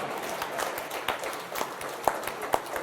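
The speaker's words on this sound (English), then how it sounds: "Dr. Kaberuka deserves a round of applause" Scattered audience applause at a conference session, a few distinct claps and light patter over a short stretch, moderately near and not very dense, with no talk over it.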